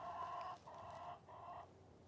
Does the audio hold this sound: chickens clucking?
yes